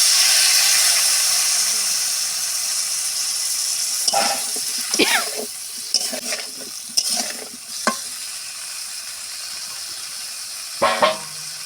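Water splashed into a hot pan for a Bengali egg and green banana curry, giving a loud steady sizzle and hiss with several bursts of stirring scrapes and clatters throughout.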